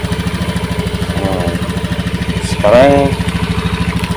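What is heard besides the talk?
motorcycle engine idling before being switched off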